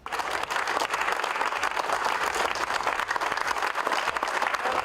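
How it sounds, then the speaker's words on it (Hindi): Migrant workers at a shelter home stand around a pregnant woman and clap to encourage her, a steady, dense round of applause from a group that continues unbroken throughout. "वहां ठहरे दूसरे मजदूर इस महिला के पास खड़े हो गए और तालियां बजाने लगे"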